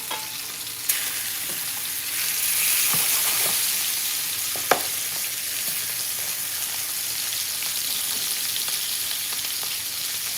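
Steak sears in a hot pan with a steady, broad sizzle and crackle. A few sharp pops and spatters rise above a continuous hiss that holds for the whole stretch, with no voices present.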